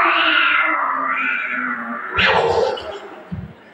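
A performer's voice imitates a cat, drawing out a long, wavering meow followed by a sharper rising yowl, loud and close, with a couple of soft thumps at the end.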